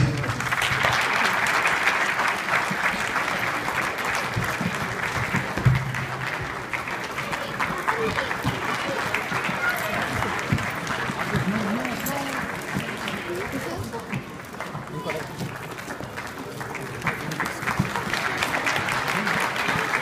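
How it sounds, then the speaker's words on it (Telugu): Applause at a Diwali musical night event, a dense crowd clapping steadily for about twenty seconds, loud and sustained with faint voices mixed in. "చప్పట్లు"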